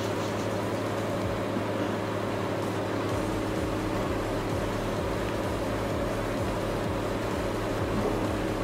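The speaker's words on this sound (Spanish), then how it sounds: "Si escuchan es la moto." Steady engine drone of a motorcycle in the farming game Farming Simulator 2013, a continuous low hum with constant harmonics running unbroken and fairly loud, with no voices.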